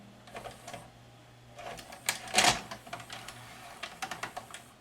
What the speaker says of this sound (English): Tries to load again because the tape is actually blocking the optical sensor right here.